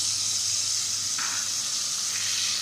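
Soy sauce and vinegar hit a hot pan of fried pakora batter, giving a steady, loud hiss and sizzle that holds evenly throughout, with no voices over it.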